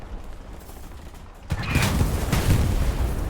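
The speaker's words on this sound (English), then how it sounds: "you can already see another 76 shooting here at this house from another angle" Tank gunfire and explosions in the World War II shooter Hell Let Loose, quiet at first, then a sudden burst of cannon fire and rumbling blasts from about halfway through, with further booms continuing.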